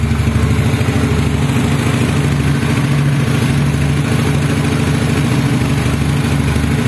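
A Yamaha Mio motor scooter engine, started using a homemade wiring cable, idles steadily and loudly up close, with a constant low putter and no talking.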